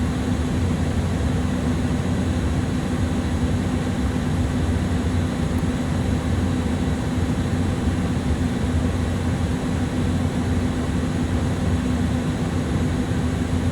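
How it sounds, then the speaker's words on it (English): Steady engine roar of an Airbus A300-600 airliner in Microsoft Flight Simulator during an ILS approach, a constant broadband drone with a low hum that goes on unchanged, with no talk. "What a lovely aircraft to fly an ILS on."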